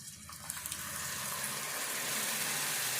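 Water is poured into a pan of egg curry with tomato-onion paste and tamarind, a rushing splash that rises and grows louder and steadier over a few seconds, close to the microphone, with no voices.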